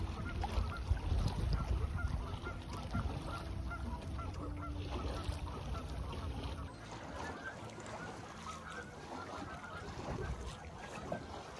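A flock of geese flies over a lake on a dinghy cruise, honking and calling repeatedly at moderate distance above the steady wash of water and boat noise.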